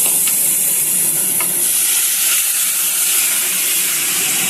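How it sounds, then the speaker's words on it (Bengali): Hot water poured into masala frying in oil for a village-style pangas fish curry, a loud steady hiss and sizzle alone for several seconds with faint stirring clicks. "এখন এর মধ্যে গরম জলটা দিয়ে দেবো।"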